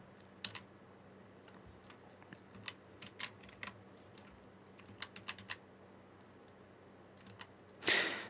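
Someone types C code on a computer keyboard in quiet, scattered keystrokes with uneven rhythm, a few sharper clicks among them. A louder burst of noise closes the clip.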